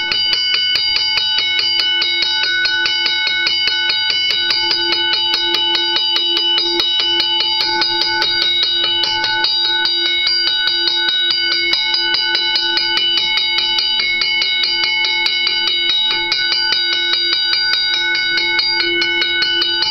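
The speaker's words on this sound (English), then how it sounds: "here how it rings properly now on power with that brass gong" A restored WRRS mini bell running on power strikes a brass gong in a fast, continuous ring, loud and close, with bright sustained metallic tones and no voices.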